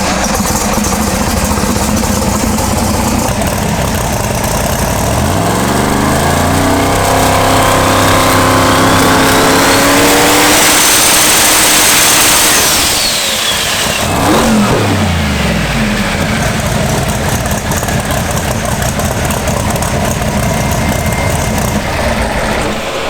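A twin-turbo Pro Mod drag car engine idles loud and close, then revs hard in rising sweeps with turbo whistle, drops back, and revs again before settling into a steady rumble.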